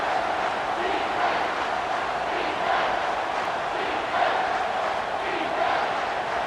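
A home crowd roars in the College Football 25 video game during a third-down defensive stand, a steady dense rumble with swelling cheers that keeps going under the broadcast.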